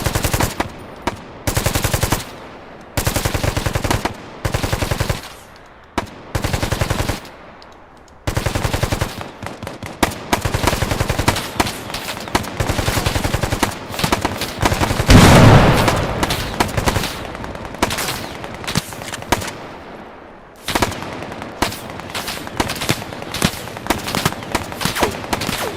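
Sustained bursts of machine-gun and rifle fire during a tactical combat game, loud and close, with rapid strings of shots broken by short gaps and heavier overlapping volleys near the middle.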